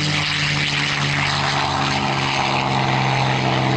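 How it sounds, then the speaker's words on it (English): A P-51 Mustang warbird roars past at an air show, its propeller engine producing a loud, sustained, throbbing drone that stays strong and close throughout. "The P-51 Mustang."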